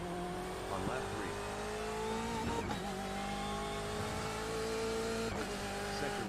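A GTE race car engine laps Daytona in a steady, loud sustained drone, with rising pitch sweeps as it accelerates and shifts, and a voice speaks over it.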